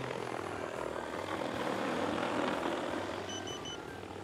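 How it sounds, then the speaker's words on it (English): Two XAG P100 Pro agricultural spraying drones fly together, giving a steady propeller drone and whine that swells slightly at mid-distance and then eases, with no talking. "And that's how you fly two drones at once with one controller."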